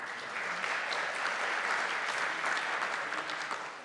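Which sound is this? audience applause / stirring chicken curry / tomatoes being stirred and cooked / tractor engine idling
audience applause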